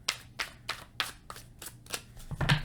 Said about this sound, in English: and then we're going to cut your deck